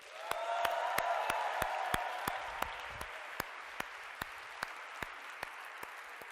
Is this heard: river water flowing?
no